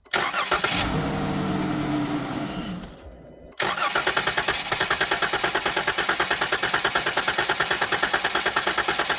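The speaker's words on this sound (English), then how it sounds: "The engine may run for a couple seconds and then die, and then we'll crank it over for 3 to 5 more seconds" Dodge Grand Caravan engine cranking during fuel injector replacement, a loud whirring crank that drops off briefly, then catches into a rapid, even, pulsing run up close.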